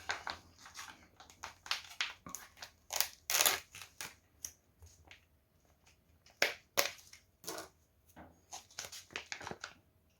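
Field ration food packet being opened by hand: sharp crinkling and tearing of plastic wrapping in irregular bursts, close and crisp, with pauses between rustles.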